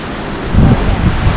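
A jungle waterfall near Navi Mumbai pours down in a loud, continuous roar that swells partway through, with wind buffeting the microphone.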